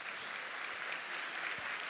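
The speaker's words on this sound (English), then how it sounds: "Anyone with me on this by a round of applause or show of hands?" Audience applause in a leadership session hall, a steady, moderately quiet wash of clapping lasting a couple of seconds with no talk over it.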